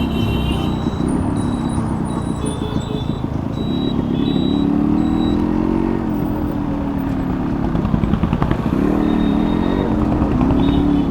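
A Yamaha RX100 motorcycle rides steadily with a loud, close two-stroke engine drone, its pitch rising and easing a few times under constant wind rumble; no talking.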